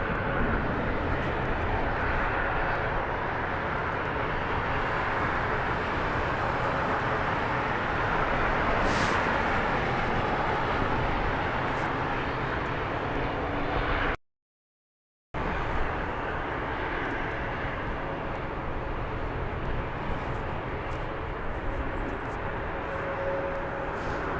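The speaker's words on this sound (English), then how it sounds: "Nice A330 wheelie from the Virgin Atlantic arrival" Virgin Atlantic Airbus A330 arriving at London Heathrow, a long continuous engine rumble and roar at moderate distance, with a brief gap of silence partway through before the steady noise resumes.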